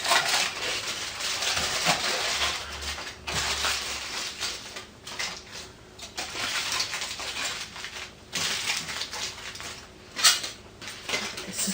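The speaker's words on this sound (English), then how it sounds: "wrap it in aluminum foil. Nice and tight here." Aluminum foil is wrapped nice and tight around a food item, producing a steady, close crinkling and crumpling rustle that swells and fades in waves, with one sharper crunch near the end.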